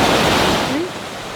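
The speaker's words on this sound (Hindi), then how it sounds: "उनके नीचे से वाटरफॉल गुजर रही है" Rushing snowmelt waterfall flowing beneath a walkway in Naran, Pakistan, a loud steady broadband roar of freezing water that eases slightly toward the end, with faint voice traces.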